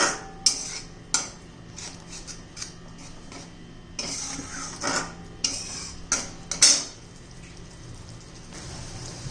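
Garlic chutney being stirred in a pan after curd is added, with intermittent scraping and clinking of a spoon against the vessel, sharp taps spaced over a low steady background, no talking.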